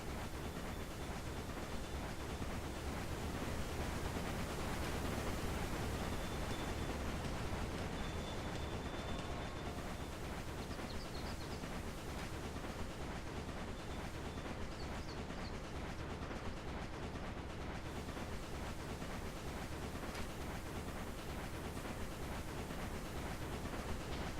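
A train rolling along the track in the Railway Empire video game, a steady hissing, rumbling run that holds even and moderately quiet with no pauses or voices.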